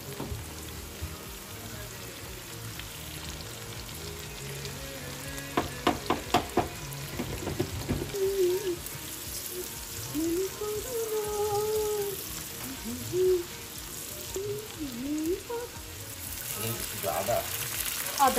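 Whole cumin and onion tempering in hot oil for a rohu fish dopiaza, a steady close sizzle with scraping stirring noises and a voice talking over it at moments.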